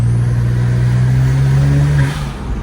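A BMW 335is with an upgraded turbo revs and accelerates close by, a loud steady engine drone rising slightly in pitch and then easing off near the end, with no talk.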